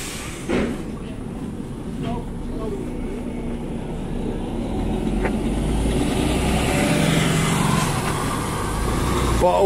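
A van pulling out from private land, its engine a low steady rumble that grows louder and closer over several seconds, with people talking nearby.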